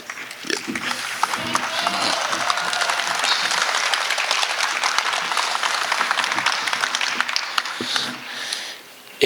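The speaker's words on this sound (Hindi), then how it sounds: "इतनी कमजोर तालियां" A crowd claps at a Hindi kavi sammelan poetry gathering: loud, dense applause sustained for about nine seconds with a few voices mixed in, then dropping away at the end.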